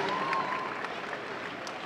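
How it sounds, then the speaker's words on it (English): Audience applause at a Youth Enrichment Day event at Boston University: a steady wash of many hands clapping at moderate volume throughout, with a faint tone briefly at the start. "How about a nice round of applause?"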